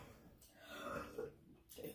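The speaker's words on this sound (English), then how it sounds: "I love belching." A person lets out a soft, drawn-out belch after eating Chinese fried chicken with sweet and sour sauce, a quiet, close, throaty rumble heard on its own.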